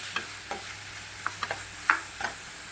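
Ginger and garlic sauté in a pan for a tuna fish curry, with a soft sizzle under a handful of distinct spatula scrapes and taps against the pan, close and fairly quiet.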